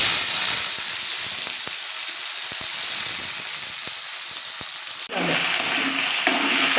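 Tomatoes and coriander hit hot oil in a pan for dal, a loud, close, continuous frying sizzle with scattered pops, then a sudden burst of fresh crackling as more goes in near the end.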